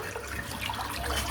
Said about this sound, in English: I'm going to rinse this razor out in a little bit of warm water before I start my next pass.